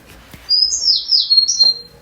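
Birdsong from a K-pop music video: several bright, quick chirps and tweets in a fluttering run lasting over a second, clear and fairly close, with no talking over them.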